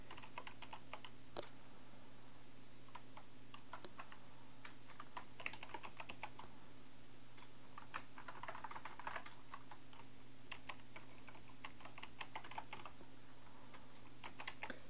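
A footnote is typed on a computer keyboard in a quiet room, with faint, irregular key clicks in short bursts over a low steady hum.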